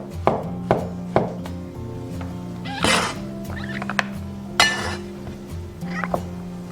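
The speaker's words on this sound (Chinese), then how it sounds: "半个杏鲍菇切片。" A knife slices half a king oyster mushroom on a cutting board, producing crisp, close chops at an uneven pace, some sharp and isolated, others softer, with no voices.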